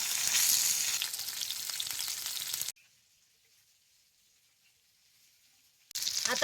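Pomfret fish stuffed with masala fries in a pan, a loud steady sizzle for a few seconds that cuts off abruptly into near silence before the sizzling returns at the end.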